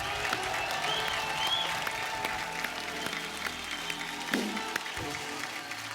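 Sustained audience applause for the singer and the musicians at a comedy show taping, a steady dense patter of many hands clapping with no voices, holding evenly throughout.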